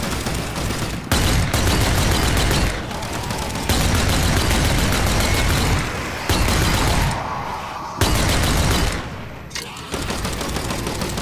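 Bursts of rapid gunfire in the VR zombie shooter Army Zombie VR come loud and close in several long volleys separated by brief pauses, with no talk over them.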